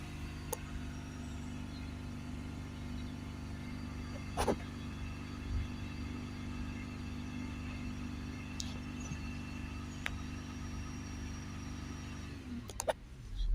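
A Mercedes E350 diesel engine idles in a steady, even low rumble with a faint hum. A couple of sharp ticks stand out, one near the middle and another at the end.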